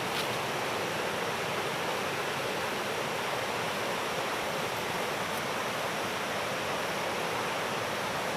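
A river rushes steadily in broadband noise, close and constant with no pauses, along a forest trail near oil palm plantations.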